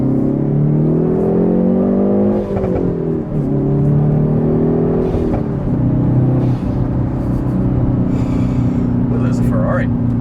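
Hyundai Veloster N engine revving hard while shifting down through third and second gear, a loud throaty rising and falling drone with clear dips at each gear change, heard from inside the cabin.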